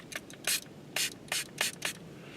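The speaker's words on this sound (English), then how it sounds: "I got my little spray bottle filled up with regular water." A small handheld spray bottle filled with plain water squirts five or six quick bursts, each a short hissing spritz close to the microphone, spaced about half a second apart with near silence between.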